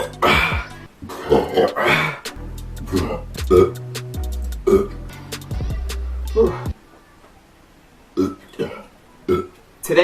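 Loud, drawn-out burps after chugging soda, several long belches in a row with throaty grunts and a brief cough between them, close and prominent.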